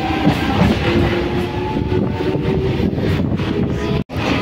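A local train rumbles steadily along the tracks between Kulgachia and Bagna stations, loud and close, with continuous rolling noise and a faint tonal whine throughout.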